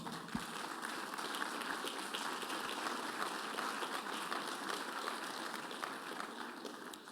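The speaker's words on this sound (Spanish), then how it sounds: "Dele un fuerte aplauso al Señor." A church congregation applauds the Lord in a steady, dense wash of clapping that holds evenly throughout, moderately distant and without a clear break.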